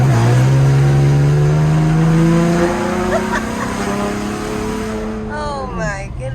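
A loud 2015 Chevrolet Camaro 6-cylinder engine revs up and holds a high, droning pitch, then eases off and drops, close and dominant, with faint talk at the end.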